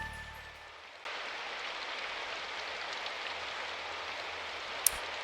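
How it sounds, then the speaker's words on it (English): Steady rain falling on a cobblestone street in the video game Symphonic Rain, starting abruptly after a second and continuing as an even, soft hiss, with one brief click near the end. "The first thing I heard when I got outside was the rain hitting the cobblestone street."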